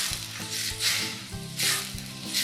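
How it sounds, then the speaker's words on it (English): Vinegar splashes onto tomatoes dry-sauteing in a hot pan for beef vindaloo, giving a steady close sizzle with bursts of louder hiss and soft stirring scrapes and taps. "To that, I'm going to add my vinegar."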